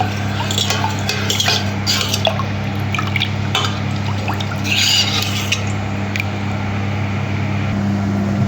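A spoon stirs nannari sarbath in a glass, sending quick clinks and liquid swirls over a steady low background hum, busiest in the first half before fading toward the end.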